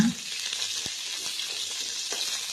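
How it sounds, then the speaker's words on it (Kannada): Green chillies fry in a little oil in a pan, giving a continuous close sizzle with a few soft stirring knocks and no talk. "ಒಂದು ಪಾತ್ರೆ ಇಟ್ಟು ಹಸಿಮೆಣ್ಸಿಕಾಯಿ ಹಾಕಿ ಸ್ವಲ್ಪ ಎಣ್ಣೆ ಹಾಕಿ ಚೆನ್ನಾಗಿ ಹುರ್ಕೊಳ್ಳೋಣ"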